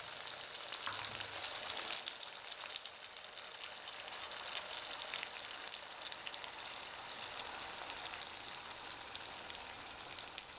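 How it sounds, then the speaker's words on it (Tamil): Onion paste sautéing in hot oil with fennel seeds and curry leaves, a steady close sizzle and crackle that runs continuously and fairly quietly with no talking. "நம்ம அரைச்சி வச்ச வெங்காய பேஸ்ட்டையும் சேர்த்து நல்லா வதக்கிடுங்க."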